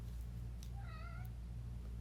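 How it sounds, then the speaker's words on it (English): A single house cat gives one short, clear meow near the middle, rising then falling, over a steady low hum in an indoor room. "It's my cat."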